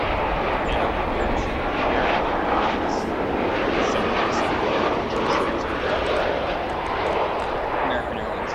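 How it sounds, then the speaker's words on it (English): An American Airlines Boeing 737-800 from Austin touches down on runway 10 Center at O'Hare, a steady loud broadband jet roar lasting throughout, with a voice talking over it. "American Airlines Flight 2327 from Austin, Texas. Smoky touchdown there on 10 Center"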